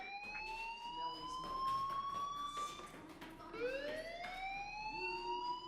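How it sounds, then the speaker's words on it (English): An electronic fire alarm in the video game Life Is Strange, with rising and falling tones, repeats steadily over a busy background, sweeping up then settling, fairly loud and continuous. "do you hear that fire alarm?"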